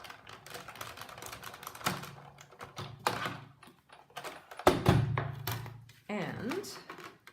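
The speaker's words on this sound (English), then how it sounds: "then you're going to run it through the Big Shot." Cardstock in an embossing folder is cranked through a Big Shot die-cut machine, giving a series of clicks and clunky thumps with a heavier grinding pass near the end, close and moderately loud, with talking over it.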